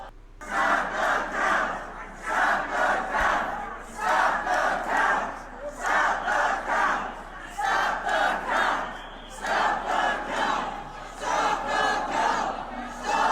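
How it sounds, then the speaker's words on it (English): A crowd of protesters outside the TCF Center in Detroit chants in loud, rhythmic bursts, repeated roughly every second and a half, many voices shouting together in unison. "as you can hear, they're protesting to stop the count"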